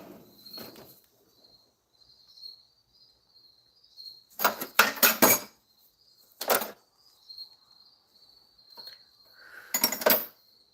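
A wrench clanks and clicks in a few sharp metallic bursts against a GM 4.3L engine during head gasket replacement prep, with a faint steady whine and quiet gaps between the close impacts.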